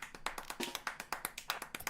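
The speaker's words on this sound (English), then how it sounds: "Who is clapping?" Hands clapping in a quick, steady rhythm, about a dozen close, crisp claps spread over two seconds with no voices alongside.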